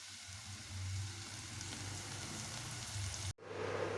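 Ground herb paste dropped into hot oil for homemade hair oil, giving a steady close sizzle and crackle that bursts louder near the end after a brief pause.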